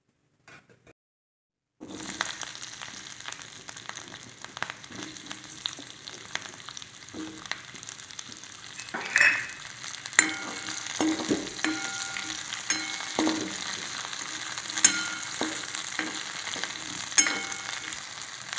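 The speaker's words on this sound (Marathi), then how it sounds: "आता आपण एका कढईत दोन चमचे तेल टाकून घेऊ तोंडले परतण्यासाठी" Ivy gourd (tondli) sautéing in a couple of spoons of oil in a kadhai, a steady close sizzle with scattered clinks and stirring scrapes, starting after a short silence and growing louder, with no talking.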